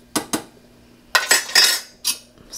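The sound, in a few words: stirring oats into simmering milk in a pot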